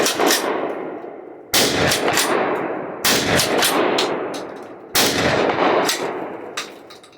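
Four loud, close shotgun blasts from an Ermox X-Pro T ring out outdoors at uneven intervals, each with a long echoing decay.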